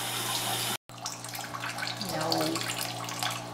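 Water pouring from a tap into a portable twin tub washing machine, a steady rushing splash that cuts out briefly, then resumes with gurgling as the tub fills; a voice speaks a single word.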